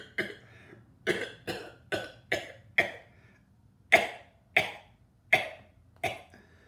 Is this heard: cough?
yes